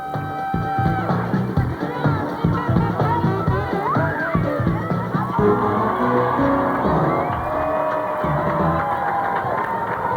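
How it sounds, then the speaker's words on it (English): A large crowd at the Minnesota State Fair cheers and whoops, a lively outdoor babble with shouts and children's voices, while a reporter talks over the noise. "Huge crowd of people out here at the Great Minnesota Get-Together"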